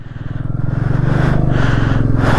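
A heavily loaded motorcycle crawls slowly through water on a rough Ladakh mountain road, its engine a steady low rumble that builds gently and stays close and loud throughout.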